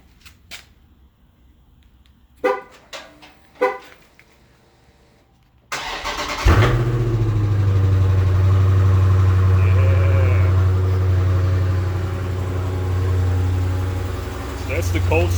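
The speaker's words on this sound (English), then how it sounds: "let's go ahead and get a cold start on this bad boy" A few faint knocks, then a stock car engine cold starts with a loud burst, settling into a steady, rumbling idle that continues to the end.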